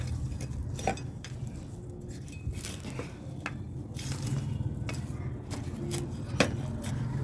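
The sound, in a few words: mixing fertilizer into potting soil for lemon plant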